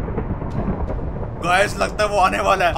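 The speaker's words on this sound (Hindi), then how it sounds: "बिजली कड़क रही है" Rumbling thunder rolls under someone speaking Hindi in the Minecraft video game, then a sharper crackling burst of lightning and thunder breaks in midway and continues loudly alongside his voice.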